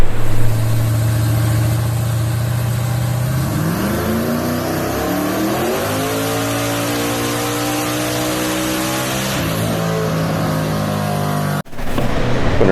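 A car engine on a dyno revs loud and close, its pitch climbing and holding through a long pull before cutting off abruptly near the end.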